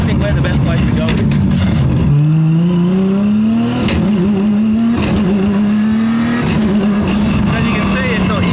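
A Nissan GT-R engine revs loud and close through several gear changes, pitch climbing steadily and dropping at each shift, with a person talking over the drive.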